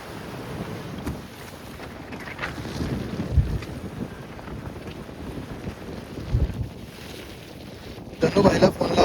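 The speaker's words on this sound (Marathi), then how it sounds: "समुद्र छान आणि कविता बघा गाडी चालवते." A yacht cruising on the sea off Mumbai produces a steady rush of wind and water with a low hull rumble, growing louder and more turbulent in the final seconds.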